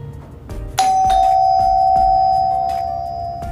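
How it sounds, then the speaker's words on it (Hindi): A budget ding-dong electric doorbell wired to a switchboard rings loudly once, a bright sustained chime tone that rings on and slowly fades, with faint clicks before it. "आपने इसका साउंड सुना कितना लाउड साउंड मिलता है आपको इस डोरबेल में"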